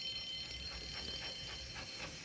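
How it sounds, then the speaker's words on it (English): An alarm bell rings in a Thomas and Friends railway scene, a steady high ringing tone held throughout beneath low rumbling background noise, with no talk. "Soon came the alarm."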